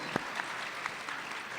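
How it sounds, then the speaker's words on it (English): A convention audience claps in a brief, steady patter of applause with a few sharper claps standing out over the wash. "Round of applause for these two."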